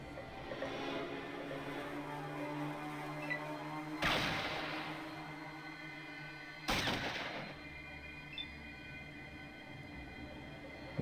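Two sharp, loud gunshots from the Fallout video game, spaced a few seconds apart, each bursting out over a low, steady background hum.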